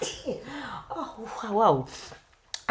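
A single sharp sneeze bursts out near the end, preceded by rising exclaimed vocal sounds as it builds, close and loud.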